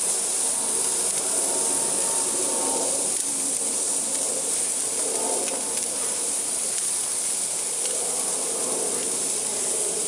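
Brats cooking on a barbecue grill over a fire, a steady broad hiss and sizzle that holds even and fairly loud from start to finish, with no voices.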